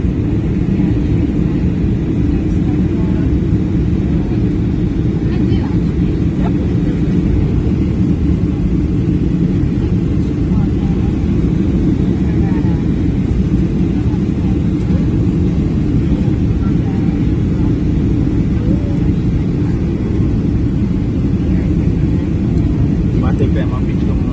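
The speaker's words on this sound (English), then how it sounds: "Look, plane is go down now. Plane go down." Inside the cabin of an airplane descending to land, a loud, steady low engine rumble and airflow roar fills the space while people talk over it.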